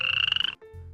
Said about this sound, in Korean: 소리에서 개구리 울음소리 재생하기